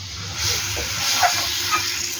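Water poured into a hot wok of oil from cooking koi fish gives a steady, loud hiss and sizzle that swells slightly and holds throughout.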